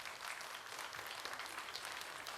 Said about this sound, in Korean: 박수 한번 좀 쳐주시고.